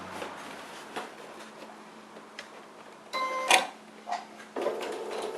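A sewing machine stitches fabric for a small zippered pouch in short runs, then reverses for a backstitch, with clicking mechanical bursts and a sharp clack, close and moderately loud.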